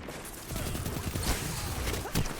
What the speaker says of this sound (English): In a faster firing archetype of fusion rifle